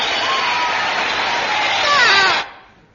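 Applause from a gramophone record, heard as a dense, steady wash of crowd clapping with some cheering that runs for about two and a half seconds, then cuts off abruptly into near silence.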